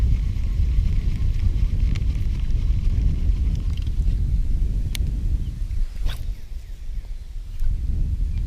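Steady wind roars across the microphone outdoors on the water during bass fishing, a loud low rumble throughout with a couple of faint clicks, no talking.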